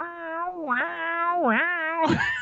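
A house cat meows outside a closed bedroom door: a few drawn-out, pitch-bending meows in close succession, fairly loud and near, ending in a rougher, harsher cry.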